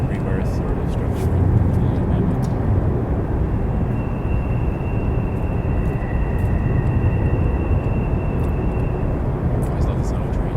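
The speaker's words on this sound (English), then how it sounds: "Always love the sound of trains." A train rumbles steadily nearby along a wooded trail, a continuous loud drone with a faint high squeal, while people talk over it.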